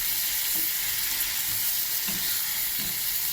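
Potatoes with onion, garlic and ginger sizzle steadily in hot oil, a close, continuous frying hiss with soft stirring scrapes, no voices.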